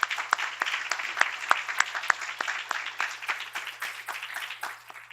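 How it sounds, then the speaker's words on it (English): An audience in a room at a university admitted students' visitor day claps together, sharp individual claps standing out near the front, the applause gradually thinning and fading out toward the end. "let's give a warm round of applause to all of you in the room"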